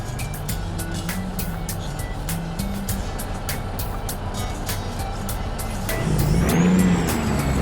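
A Kenworth truck engine in American Truck Simulator drones steadily near redline under a heavy load, with a louder surge of low rumble toward the end and faint beeps throughout.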